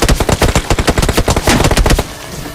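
Rapid automatic gunfire in a battle royale video game match, loud and close, dense bursts of shots in quick rhythm that ease off near the end, with no talk.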